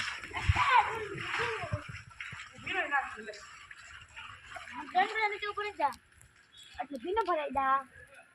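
Someone splashes through collected rainwater in short, sloshing bursts, heard under frequent nearby talking from a woman and a child, with quiet pauses between the splashes.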